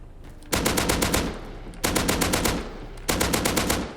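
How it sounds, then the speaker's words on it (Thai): A gun fitted with a muzzle attachment fires in the Rust video game, three sharp, fast bursts of loud automatic gunfire, each volley a rapid rattle of shots separated by short pauses. "ก็ จะทำให้ปืนเนี่ยค่าไฟเลทเพิ่มขึ้นไปอีกอัตราการยิงก็จะเร็วขึ้นไปอีกนะครับ"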